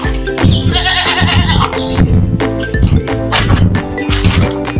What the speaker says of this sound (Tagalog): Ito po yung mga alaga nating kambing mga idol.